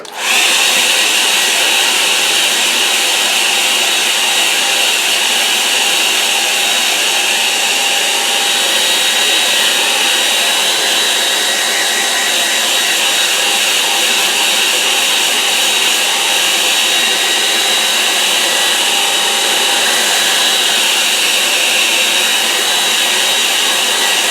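A hair dryer drying a watercolour painting, a loud steady whine with an airy roar that runs without a break throughout, no talking.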